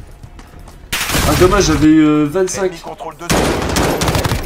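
Pump-action shotgun blasts in Call of Duty Modern Warfare multiplayer, loud close shots over game music, with someone talking over the action.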